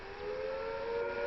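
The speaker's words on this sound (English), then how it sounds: "If an attack is expected, the sirens will sound a rising and falling note like this." Civil defence attack warning siren from the video game Fallout London, a loud sustained wailing tone heard alone and steady throughout, without talk.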